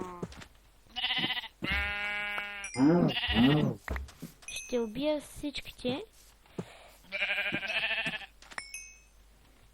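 Sheep bleating in the Minecraft Hexxit game, a few short wavering bleats close up, mixed in with someone talking over them.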